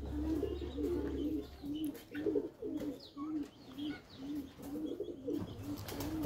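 Pakistani breeding pigeons coo in a low, repeated rhythmic murmur, several calls overlapping close by with faint chirps above a steady low hum.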